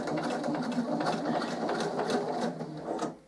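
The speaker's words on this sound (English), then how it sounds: "start with a couple of reverse stitches" A sewing machine stitches a fabric pen holder bookmark, opening with a couple of reverse stitches; a close, steady motor whir with fast needle ticking runs throughout and eases off at the end.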